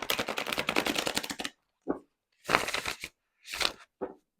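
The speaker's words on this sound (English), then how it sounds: "Perfect shuffle" A deck of playing cards on buttery matte or semi-gloss waxy stock being shuffled by hand, a long riffling burst followed by several shorter bursts of snapping and rustling, close and clear.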